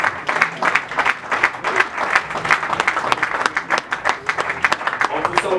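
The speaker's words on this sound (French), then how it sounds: "Applaudissez très fort, mesdames et messieurs." Applause from an audience at a French-language awards ceremony, a steady, dense clapping that stays loud and close throughout, with crowd noise mixed in.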